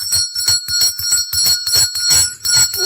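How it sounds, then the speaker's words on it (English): A bell rings repeatedly in quick bursts during a political debate program, bright metallic strikes in an uneven rhythm, loud and close with no talking over it. "when you hear the ringing of the bell"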